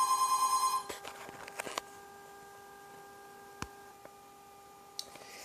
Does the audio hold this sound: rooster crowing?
no